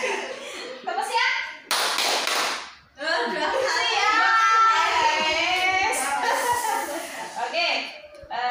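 Children in a classroom join a rhythmic clap chant, with sharp clusters of hand claps alongside chanting young voices and laughter, close and lively.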